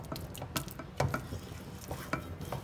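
A spoon stirs a thick date mixture in a cooking pot over a low flame, with soft scraping and light clinks against the metal at an irregular pace, quiet and close.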